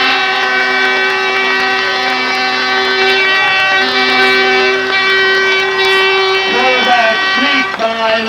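Loud, sustained air horns blare over crowd noise at a 1988 high school football game after a touchdown while an announcer talks, the blasts holding steady and shifting pitch near the end.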